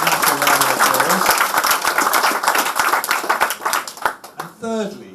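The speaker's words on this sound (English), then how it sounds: "Let's just give a massive round of applause." A crowd at a British Chinese community gathering claps for Lord Wei, a British-born Chinese peer, with sustained applause under loud, close speech; the clapping fades as a voice continues alone at the end.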